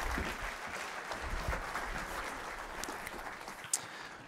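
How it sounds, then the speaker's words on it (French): Audience applause fills a church during an Easter service, a steady wash of clapping from a large congregation that runs evenly throughout, with one sharp louder clap near the end. "On peut encore les applaudir"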